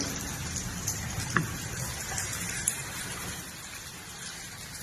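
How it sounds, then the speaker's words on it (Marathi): Steady rain with hail falls in Haryana, a dense, even hiss broken by a few sharper ticks of hailstones striking a surface nearby. "पाऊस चालू झालंय"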